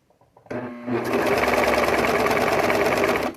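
A Brother serger stitches and trims thin fabric with its knife, a loud, steady, close-up mechanical whir that starts after a brief pause and runs evenly to the end.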